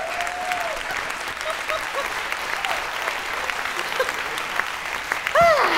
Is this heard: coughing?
no